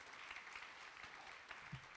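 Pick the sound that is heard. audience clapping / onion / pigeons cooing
audience clapping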